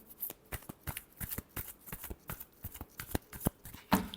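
A deck of tarot cards is shuffled by hand in a rapid, regular series of soft riffling flicks, close and fairly quiet, ending with a couple of slightly louder slaps.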